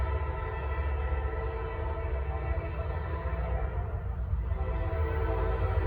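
Norfolk Southern freight train on the Charlotte District, giving a steady, loud rumble and rolling hum that holds evenly throughout, with no talk over it.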